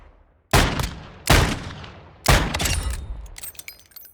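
A .500 Smith & Wesson revolver in Call of Duty MW II fires three loud, booming shots at spaced intervals, each ringing out and decaying before the next, with no talk over them.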